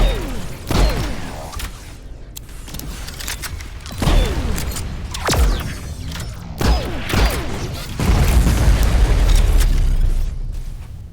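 Cannon shots explode in the Taur tower defense game, several heavy booms with creaking mechanical clatter between them, loud and spaced a few seconds apart, no talk.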